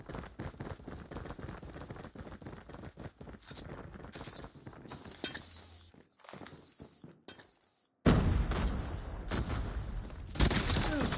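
Rapid gunfire bursts and explosions from a Call of Duty Mobile tournament match, dense volleys of shots with brief pauses, a sharp loud blast near the end, faint speech underneath.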